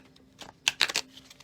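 A deck of playing cards being shuffled by hand, a few quick soft riffling bursts close by in a quiet room.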